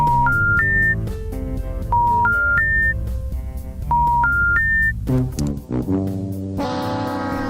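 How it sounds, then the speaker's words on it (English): Touch-tone telephone keypad tones on a live radio show beep in three repeated rising sequences of steady notes, loud and clear, followed by a brief electronic jingle with no talking. "We've got to give him a quick call here, so we're going to dial him up."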